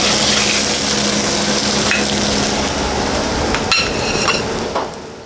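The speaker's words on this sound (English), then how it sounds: "Pre-order gyoza are starting to be fried." Steady, dense sizzling of gyoza dumplings frying in oil, loud and close, with a few faint clinks partway through.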